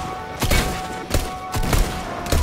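Gunfire in a video game, a few punchy shots in quick bursts, loud and close, spaced irregularly over a steady background tone.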